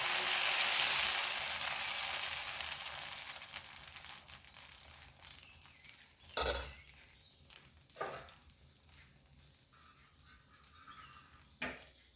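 Jackfruit dosa batter hisses on a hot pan, a soft sizzle that fades gradually, followed by a few sharp clatters and scrapes close by.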